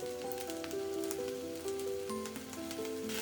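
Noodles stir-fried in a wok for 1960s-style char kway teow, a faint steady sizzle and patter heard under background music.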